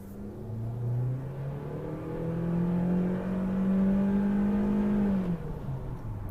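A 2017 Honda Civic 1.6 with CVT gearbox pulls away at full throttle, its engine drone rising and holding a steady high note for several seconds before easing off, heard from inside the car.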